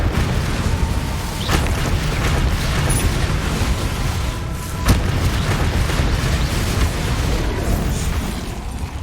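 The Incendio fire spell in Hogwarts Legacy bursts with a loud, dense roaring whoosh that holds across the whole stretch, with a couple of sharp cracking pops over constant rumbling noise.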